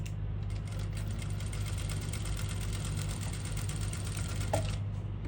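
Domestic sewing machine running a steady continuous stitch down the seam of a princess-cut blouse, a constant loud whir with a brief click near the end, no voices.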